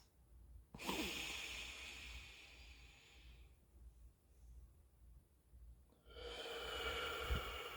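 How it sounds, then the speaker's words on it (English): A deep breath is drawn in, with a long airy hiss of inhalation followed by a slow exhale, close and quiet with no talking. "let's start today again with a really nice, beautiful breath."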